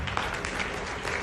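Loud applause from an audience at a network marketing awards event as a speaker is welcomed to the stage, a dense continuous clapping texture filling the brief moment.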